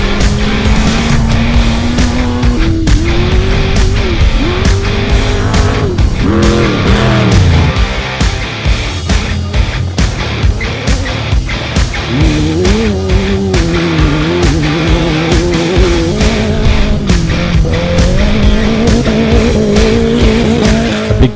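Off-road buggies and trucks race flat out on a dusty course at the 2017 Gas Dash event, engines screaming loud and continuous with rising and falling revs, tire squeal and skidding throughout.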